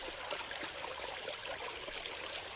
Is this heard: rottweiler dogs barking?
no